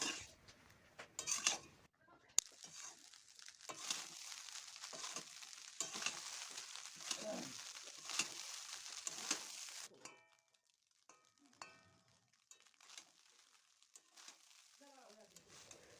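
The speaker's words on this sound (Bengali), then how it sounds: "ফ্রায়েড রাইসটা আমার প্রায় হয়ে এসেছে এখন আরেকটু নাড়াচাড়া করে নিয়ে আমি গ্যাসটা বন্ধ করে দেবো" Fried rice being stirred in a pan over a gas flame, with soft scraping and a faint sizzle at low volume, broken by a few clinks of the utensil near the end.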